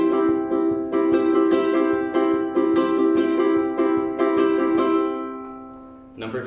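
Ukulele strummed in a quick, steady pattern of down and up strokes, bright chords ringing evenly and up close with no talk, before stopping near the end.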